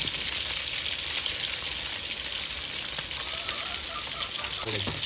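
Pomfret fish frying in hot oil in a pan, a dense, continuous sizzle and crackle that stays even and fairly close throughout.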